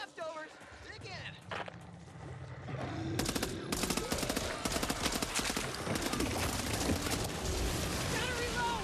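Rapid machine gun and submachine gun fire in the zombie shooter Back 4 Blood, dense bursts crackling loud and close over chaotic game noise, with voices shouting over the shooting.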